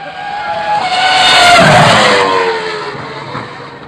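Red Bull RB6 Formula 1 car at Killarney raceway roaring past, a loud high-pitched engine scream that rises to a peak at mid-pass and then falls away in pitch and volume as it recedes.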